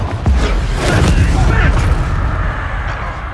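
A Confringo blasting spell in Hogwarts Legacy bursts as loud, rumbling booms and crackling impacts in a busy fight, with a voice speaking briefly over the din.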